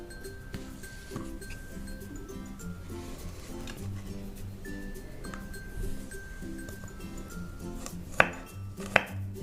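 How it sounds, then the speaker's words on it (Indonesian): Garlic cloves chopped with a knife on a board, a steady run of soft close cuts, with a couple of sharp clinks near the end. "Setelah itu kita potong-potong bawang putihnya"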